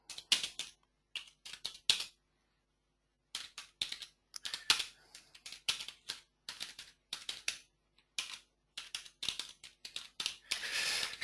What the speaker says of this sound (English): I'm just typing a message to one of our guys